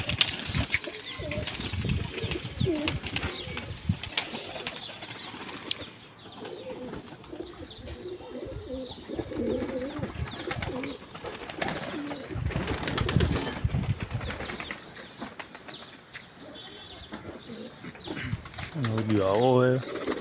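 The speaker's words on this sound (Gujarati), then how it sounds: "કબૂતર આવી ગયા બધા બારે." A flock of pigeons being fed grain coos softly and repeatedly, with bursts of wing flapping and a few chirps, all close by.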